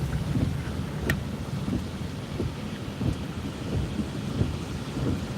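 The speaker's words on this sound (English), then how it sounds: "I hear thunder." Thunder rumbling during a storm outside a fast-food parking lot, a low rolling rumble with gusty wind noise and light rain, steady and moderately loud, with a brief sharp click near the start.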